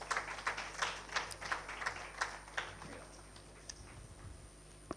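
Audience applause at an African youth conference on renewable energy, a scattered, thin round of clapping heard faintly from a distance, fading out after a few seconds.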